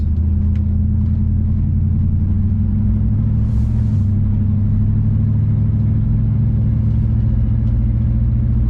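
A truck fitted with tractor tires rumbles steadily along a highway, a deep droning engine and lumpy tire roar with constant low vibration, loud and close.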